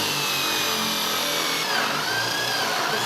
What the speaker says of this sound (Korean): 나무판에 구멍을 만들기 시작했습니다.